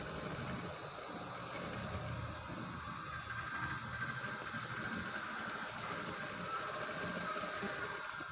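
A sewing machine runs slowly through thick blouse cloth for a child's blouse, a steady low mechanical hum with a faint rhythmic stitching patter throughout, moderately quiet with no talking.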